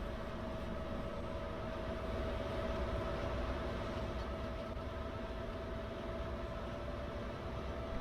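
A locomotive running fast down a straight stretch in Farming Simulator 22, a steady loud low rumble with a sustained engine tone, unbroken throughout.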